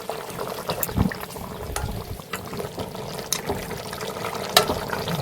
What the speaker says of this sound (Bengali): বেশ ভালো করে ফুটতে শুরু করেছে।